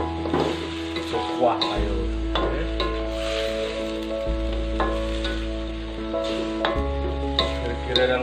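Vegetables sizzling in a hot pan as a little water goes in for a mustard-greens and fish curry soup, with steady frying hiss, clinks of stirring, and a voice speaking briefly over it.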